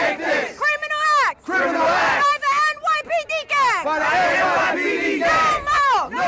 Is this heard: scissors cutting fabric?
no